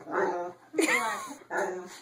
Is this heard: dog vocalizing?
yes